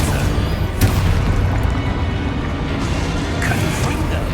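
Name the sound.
Expulso spell explosion in video game Hogwarts Legacy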